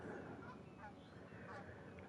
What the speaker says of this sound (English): is that geese noises on here even?